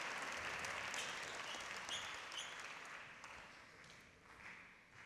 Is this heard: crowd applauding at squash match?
yes